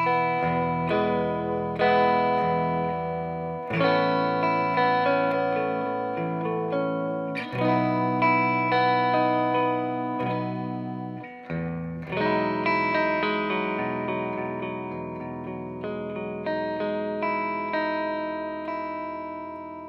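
An Eastwood Airline 3P Deluxe electric guitar played through a Gabriel Voxer 18 Lo-Carb amp, an 18-watt EL84 tube head into a 2x12 cabinet, loud and alone: strummed chords ringing out with crunchy overdrive and a few sharp re-attacks.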